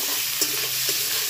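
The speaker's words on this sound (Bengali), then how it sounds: "পেঁয়াজটাকেও ভালো করে ভেজে নিই" Finely chopped onions, cut small like the minced chicken for keema rice, fry in hot oil until browned. The sizzle is loud and steady, broken by a couple of brief stirring scrapes.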